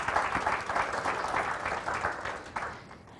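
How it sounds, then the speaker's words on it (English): Audience at a nonprofit conference applauds, a dense, steady patter of many hands clapping at moderate volume that thins out near the end. "So I want to give a round of applause to all of them for what they do."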